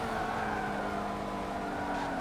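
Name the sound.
car drifting with tire skid in Forza Motorsport 7 video game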